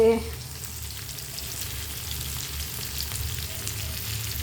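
Prawns frying in hot oil give a steady, close sizzle with light crackling that runs the whole time, with no voices over it.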